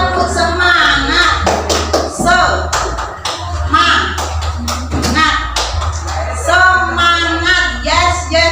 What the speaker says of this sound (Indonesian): Semua berdiri, kita tepuk semangat.